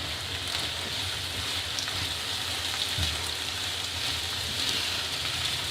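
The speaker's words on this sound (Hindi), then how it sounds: "और 1-2 मिनट इसे हम इसमें फ्राई कर लेंगे" Chopped onion frying with potatoes in hot oil for an Afghani egg omelette, giving a steady, dense sizzle that stays even and close throughout with no talking.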